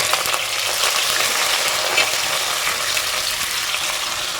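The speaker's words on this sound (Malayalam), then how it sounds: "അതിലേക്ക് ഒരു 6 അല്ലി വെളുത്തുള്ളി നീളത്തിൽ അരിഞ്ഞിട്ട് കൊടുക്കുകയാണ്" Steady, loud sizzling of garlic and ginger frying in hot oil, continuous and close with no talking.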